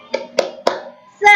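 Three sharp hand claps spaced evenly apart, then a burst of children's voices calling out together.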